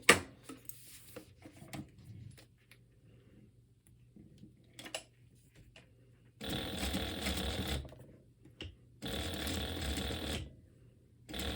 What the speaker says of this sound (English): then we'll just sew another row of stitches up near the top